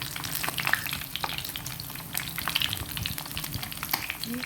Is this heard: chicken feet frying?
yes